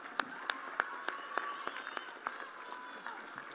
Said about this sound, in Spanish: vamos a aplaudirle aquí al compañero